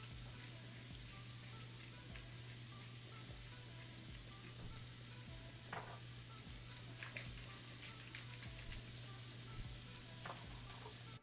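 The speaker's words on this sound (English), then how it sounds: "We're gonna cook while stirring frequently for about 3 minutes." Ground beef frying over medium heat in vegetable oil in a pan, giving a quiet, steady sizzle throughout with a constant low hum beneath it and brief scraping bursts from stirring near the end.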